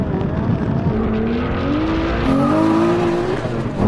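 A 3000-horsepower Nissan Patrol and a Ferrari SF90 launch in a drag race, engines rising loudly through rising revs with a brief gear change, close and dominant, and a voice faintly underneath.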